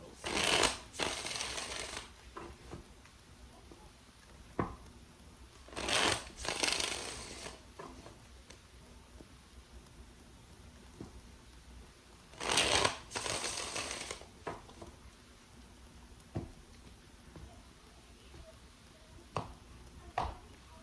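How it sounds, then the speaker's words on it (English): Tarot cards being shuffled in three bursts of crisp riffling and flicking, each a couple of seconds long and separated by quieter pauses with small handling taps. "Let's do 3 more shuffles."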